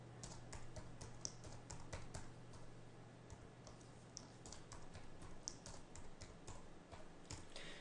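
A password typed on a computer keyboard: a quiet, close run of irregular key clicks with a steady low hum underneath.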